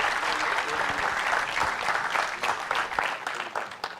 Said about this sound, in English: A round of applause for him for joining us here today.